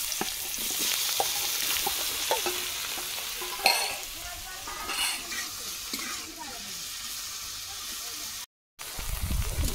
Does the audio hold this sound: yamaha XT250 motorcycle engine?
no